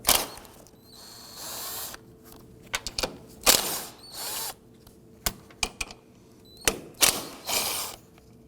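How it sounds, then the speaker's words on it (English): A ratchet loosens 13mm strut nuts on a 2001-2009 Volvo S60 front strut assembly, with bursts of close clicking and whirring pawl sounds, broken by short pauses and a few sharp metallic knocks. "These are 13mm. I'm going to go ahead and start loosening and removing the first set."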